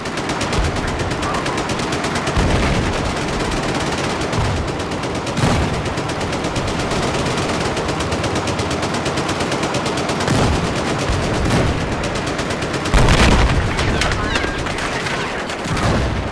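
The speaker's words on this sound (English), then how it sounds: "So those 50 cal machine guns on top of those tanks actually sound like 50 cal machine guns" Tank-mounted .50 caliber machine guns fire in Battlefield 4: dense, sustained automatic gunfire with no talk, rattling continuously and swelling into louder bursts every few seconds.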